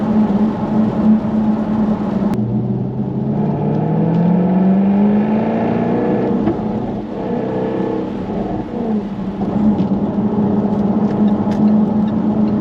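A Jaguar F-Type R (AWD P550) sports car engine hums with rising and falling revs, throttle blips swelling over a steady drone, heard from inside the cabin with rain-like background noise.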